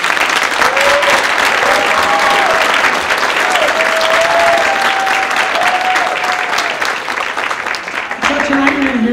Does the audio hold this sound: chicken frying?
no